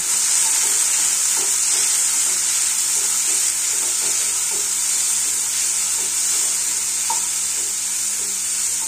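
Onion, tomato and cabbage fry in a pan with a steady, loud sizzle throughout, while a utensil stirs them in soft, repeated scraping strokes.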